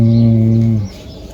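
A pet pigeon gives a single low, steady coo close by. It lasts under a second and then fades into near quiet.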